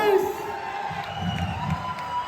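A crowd cheers and whoops at an Amway EDC celebration in Visakhapatnam, with a loud, lively hall of voices and a speaker's voice at the very start.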